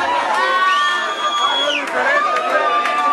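Cheering crowd at a live talent show, with shouts and whoops rising from the audience and whistles cutting through, loud and continuous around voices.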